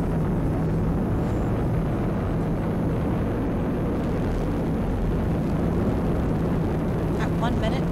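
A SpaceX Falcon 9 rocket climbing after a sunrise launch on the CRS-15 space station resupply mission, its steady broadband roar loud and continuous throughout, with an announcer talking over it.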